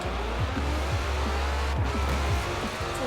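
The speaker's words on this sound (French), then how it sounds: "La Ferrari qui torche tout le monde et qui s'envole dans les arbres" Ferrari drag racing in Forza Horizon 4 on a lined-up start, a loud continuous engine roar with repeated gear-shift sweeps and tire squeal, several cars racing close together.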